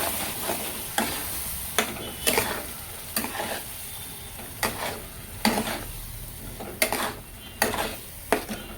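A ground masala paste for boiled egg curry sizzles in a pan while a spoon scrapes through it in regular strokes, each stir a distinct scrape over the continuous fry.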